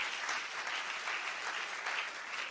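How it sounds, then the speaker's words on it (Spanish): A church congregation applauds in a steady, dense wash of clapping that holds evenly throughout, with no voices standing out. "Un aplauso al Señor por Inginia."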